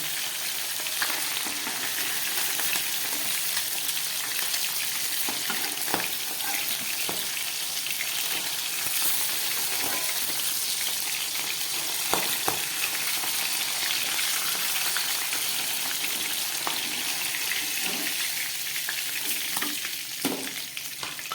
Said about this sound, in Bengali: এই গরম তেলের মধ্যে আমি মাছের মাথাগুলোকে ভেজে নেব